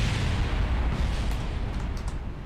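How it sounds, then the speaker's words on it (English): Rocket explosions during staging in Kerbal Space Program give a dense, rumbling burst of booms, loud at first and then slowly easing off, with no talking. "A few explosions"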